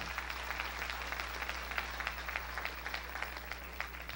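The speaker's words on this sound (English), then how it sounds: "Now give him another good clap offering." A church congregation applauds at a Sunday evening service, a steady spread of clapping held at a moderate distance beneath a constant low hum, with no voices standing out.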